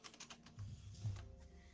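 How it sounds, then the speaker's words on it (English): Keyboard typing from the video game Phogs! comes through as a quick run of soft clicking keystrokes, faint and close, over low background hum with no speech. "Is the typing that loud no matter what?"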